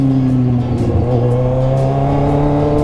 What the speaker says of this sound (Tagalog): Napakaingay pala ng motor na yun pag hindi ka nakasakay.